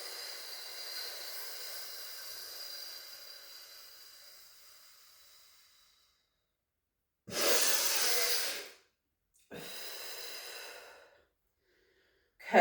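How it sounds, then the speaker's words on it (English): Deep breaths in and out during a core-engaging exercise: a long, soft airy inhale fading over several seconds, then silence, followed by two short, forceful exhales, close and alone with no talking. "Take a deep breath in. And then as you exhale,"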